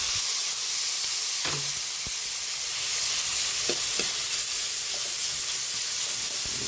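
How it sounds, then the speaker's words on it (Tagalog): Tomatoes go into a sizzling frying pan for a Filipino sauté and get stirred, giving a steady frying hiss with a few scraping stirs of the utensil. There is no talk. "Ilagay na rin natin yung kamatis."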